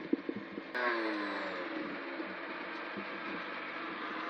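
A motorcycle engine revving while being ridden on a racing outing at Vaison, a steady mid-pitched drone that swells suddenly after a few clattering knocks, then holds a sustained, fairly close roar.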